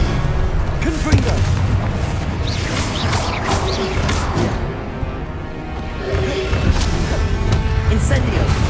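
Repeated Confringo blasting-spell explosions in the video game Hogwarts Legacy, loud booms and crashes in quick succession amid combat noise, with a voice speaking among the blasts.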